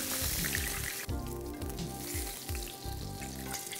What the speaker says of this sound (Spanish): La introducimos en el aceite bien caliente